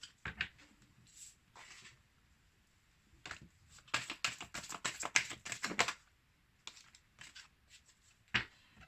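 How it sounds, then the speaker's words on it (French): Tarot cards drawn and handled during a reading: bursts of quick crisp card flicks and shuffling riffles in clusters, with a dense run in the middle, close and fairly soft, no talking. "Alors, on va tirer encore une ou deux cartes pour compléter."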